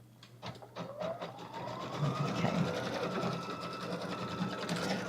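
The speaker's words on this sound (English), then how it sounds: "And then we'll go ahead and let it sew." An Altair sewing machine stipples a quilted jacket, whirring steadily in a continuous run after a few brief starts, with a faint rising whine beneath the rapid stitching.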